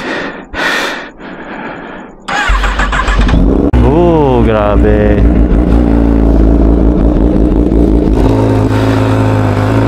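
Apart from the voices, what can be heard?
Kawasaki ZX-10R motorcycle engine starting and revving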